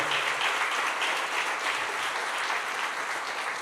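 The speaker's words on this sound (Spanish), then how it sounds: "¿Quieres darle un aplauso al Señor?" A church congregation claps for the Lord in a sustained, dense round of applause, steady and fairly loud throughout with no break.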